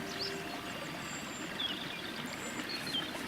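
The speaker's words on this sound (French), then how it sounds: "on sent au bruissement juste légèrement en aval quelques cascades, l'eau qui commence à s'exprimer" River water trickles over small cascades near the river's source, a soft, steady babble with faint bird chirps in the distance.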